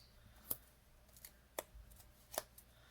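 Paper snipped with scissors while making junk journal embellishments: three crisp, isolated cuts spaced about a second apart, close and fairly quiet against a faint room hush, with no talking.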